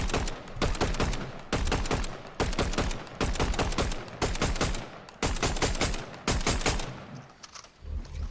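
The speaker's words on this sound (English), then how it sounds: "So this is a burst fire weapon." A burst fire weapon in the Fortnite video game shoots in repeated loud rapid bursts, each a tight cluster of shots with short gaps between volleys.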